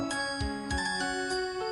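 A phone ringtone jingle plays close and clear, bright sustained chime tones with several soft bell-like strikes repeating over a steady melodic drone.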